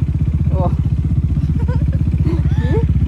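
A motorcycle engine runs close by with a steady, throbbing putter throughout, while people talk over it.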